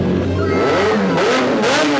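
Kawasaki ZX-10R motorcycle with a speed pipe exhaust revving loudly up close, its engine pitch rising and falling through two quick throttle blips.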